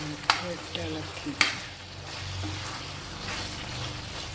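Chicken with fried onion paste is stirred in a hot pan, with two sharp spoon knocks early on, then a steady close sizzle and stirring.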